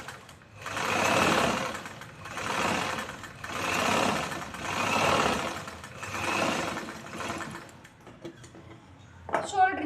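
A sewing machine runs in five steady bursts while top-stitching a choli blouse, each pass a close, even whirring hum separated by brief pauses, followed by a short clatter at the end.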